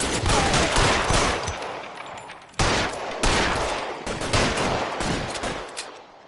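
Sustained volleys of gunfire fill a shootout in L.A. Noire, loud and dense throughout with a brief break midway before the shooting resumes, no talking.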